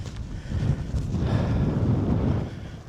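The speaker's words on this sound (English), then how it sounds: "It's a little bit windy" Steady wind buffets the microphone out on open moorland, a continuous low rushing roar that swells slightly and holds without letup, with no voices.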